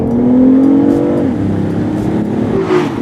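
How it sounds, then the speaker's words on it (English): A hybrid sports car revs with a synthetic, artificial-sounding engine note piped in, a loud steady drone with rising and falling pitch sweeps close by, no talking. "it really sounds quite synthetic"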